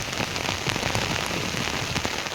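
Steady rain pours down on a rural Gujarati farm during a heavy monsoon spell by a swollen river, a dense, even hiss of drops striking surfaces with no voices.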